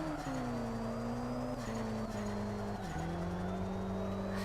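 A Chevrolet Camaro SS drifts in Drift Streets Japan, its engine droning loudly with pitch dipping and rising between shifts while tires squeal thinly above, continuous and close.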